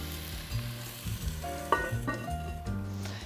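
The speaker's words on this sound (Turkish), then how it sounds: "Başta ısıttığımız için şu an size çıtırtıları geliyordur." Onion and garlic sautéing in a preheated pan give a soft, steady crackle and sizzle with scattered pops, close but fairly quiet, while a faint tonal hum runs underneath.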